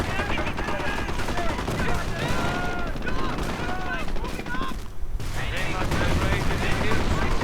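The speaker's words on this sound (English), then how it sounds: "the MG42 continues to do damage to them" Rapid bursts of MG42 machine gun fire rattle in a WWII strategy game amid other battle gunfire and whistling tones, dense and continuous, with a voice talking over the action.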